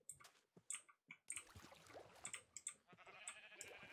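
Sheep in the Minecraft video game bleat several times in short bursts, with scattered clicking from game play throughout.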